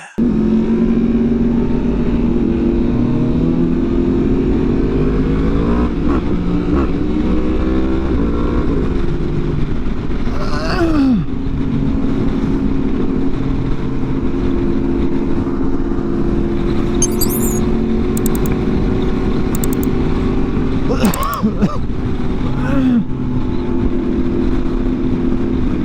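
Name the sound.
group of motorcycles riding and revving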